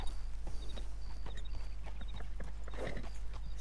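Horse hooves clip-clopping at a slow walk through bushes in Red Dead Redemption 2, a steady run of soft repeated footfalls over a constant low game hum, with no talking.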